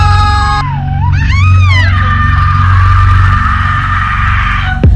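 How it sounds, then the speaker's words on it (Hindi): A man screams in a narrated horror story, a long, loud, wavering cry that bends up and down in pitch over a low droning hum, with no speech alongside. "अर्जुन जमीन पर घुटनों के बल गिरा और चीख पड़ा"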